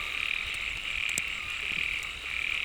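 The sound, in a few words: frogs croaking during mating season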